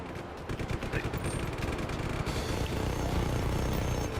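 Rapid gunfire from shooting in the video game Just Cause 3, dense and continuous bursts filling the whole stretch with a loud, busy clatter and no talk.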